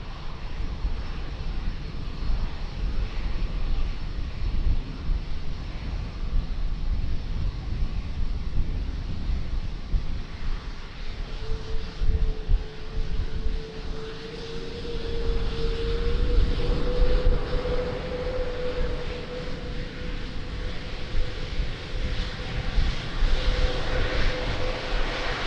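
A Delta airliner on its takeoff roll from runway 02 at Lisbon Airport, a broad continuous engine roar with wind buffeting, a rising whine emerging midway as the jet accelerates, heard from a distance.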